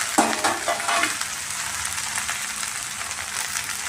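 Okra fries with cumin and mustard seeds in hot oil, a close steady sizzle with a few sharp pops and stirring knocks early on, then an even crackle.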